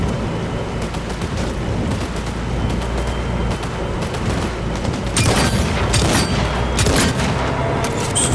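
Gunfire in the video game Cyberpunk 2077, loud dense bursts and booming shots over a continuous rumbling game backdrop, growing sharper in the second half.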